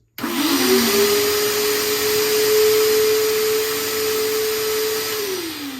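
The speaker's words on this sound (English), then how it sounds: "So that is the vacuum sound that you can hear." The vacuum motor of a Bissell Little Green ProHeat portable carpet cleaner switches on abruptly and runs loudly and steadily with a droning whine, slightly dipping in pitch near the end.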